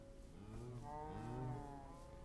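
Cows in Minecraft (FTB Unleashed modpack) moo in low, wavering overlapping calls that swell and fade across the moment, fairly close and alone with no talking.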